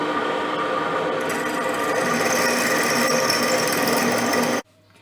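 A drill boring a quarter-inch tapping hole through a lathe pulley boss, a steady whirring motor whine with grinding cutting noise that runs several seconds and then stops abruptly.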